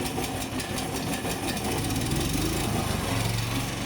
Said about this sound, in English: use this lever to start the engine, and quickly push the damper and choke back to their original positions in sequence.